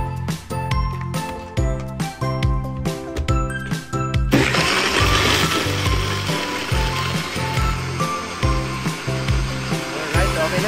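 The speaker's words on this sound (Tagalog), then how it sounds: "so i-blend na natin" A blender whirs through mango and moringa for a smoothie, rattling and grinding mechanically with a steady motor hum, entering loudly midway after rhythmic clattering, close and dominant.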